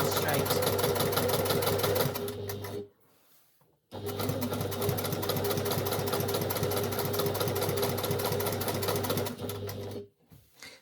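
A sewing machine fitted with top stitch thread and a top stitch needle runs fast and steady while topstitching a dress, loud and close, pausing briefly near the third second and again just before the end.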